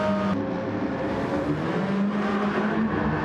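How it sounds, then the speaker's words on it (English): A Jaguar V12 race car in Gran Turismo 7 roars steadily through a Neo Classic race, its engine note sustained and loud for the whole stretch without letting up. "the Jag unleashes its V12 Fury with a deafening roar"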